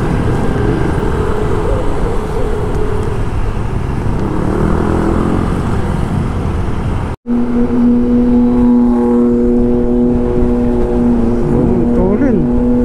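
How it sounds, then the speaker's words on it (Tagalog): Stop-and-go road traffic in a queue caused by pipe laying, a loud continuous rumble of engines and road noise with a steady humming tone and occasional rising whines, broken by a brief cut midway. "Nakalap sa tayo sa matinding traffic."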